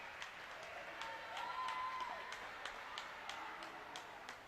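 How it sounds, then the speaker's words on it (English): Applause and scattered cheering from a crowd at a high school swim meet between Morristown-Beard and Madison, steady and moderately distant, with a brief whistle-like tone in the middle. "So Mo Baird finishes the night with a cheer"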